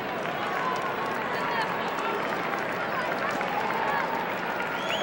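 A large crowd roars steadily at a 1990 NCAA men's lacrosse game between Syracuse and Johns Hopkins in a packed dome. The cheering is a dense, continuous wash with a commentator's voice running over it.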